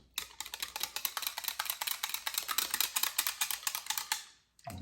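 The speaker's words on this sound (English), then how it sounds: "we add half a cup of milk to the yogurt from the last batch, starter. And whisk this." A whisk beats milk into a yogurt starter with rapid, even clicking strokes against the bowl, close and fairly soft, running steadily for several seconds before stopping.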